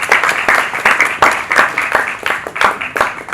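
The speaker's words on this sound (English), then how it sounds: "Can we give him a round of applause?" An audience at a tourism media roundtable gives a round of applause, loud and close, with dense clapping that comes in uneven surging waves and no speech over it.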